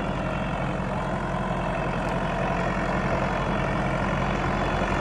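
A Massey Ferguson 290 tractor, working while mowing brush on a steep bank, sends out a steady, loud low diesel drone that continues without a break and with no voices over it.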